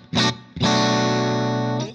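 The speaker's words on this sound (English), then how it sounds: "I just added a distortion block here, a drive block" An overdriven electric guitar through a drive block on a Fractal FM3 modeler plays a short gritty stab, then a held, buzzing distorted chord that sustains steadily before cutting off.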